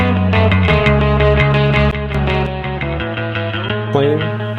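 Gritty, saturated musical notes from a Pye Pynamic 500 PWM compressor switched into distortion mode, loud and continuous with shifting sustained pitches and a crunchy edge.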